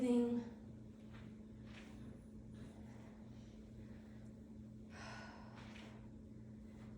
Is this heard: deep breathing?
yes